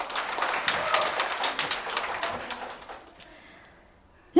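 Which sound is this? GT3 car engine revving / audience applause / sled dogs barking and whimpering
audience applause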